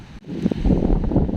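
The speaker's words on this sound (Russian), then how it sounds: "Видимо, тут очень ветреное место всегда." Strong wind gusts rumble and buffet the microphone at a riverside campsite on the Shchugor River, a low, rough roar with brief bursts over about a second and a half.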